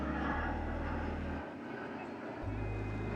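A Snaptain P40 Lite mini drone in flight gives a faint, continuous buzzing whir of small propellers, steady throughout with a slight shift in pitch partway through.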